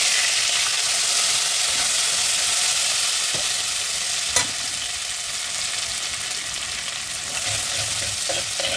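Ginger paste fries in oil spiced with cracked green cardamom, giving a loud, steady, close sizzle with a few faint stirring clicks and no talking.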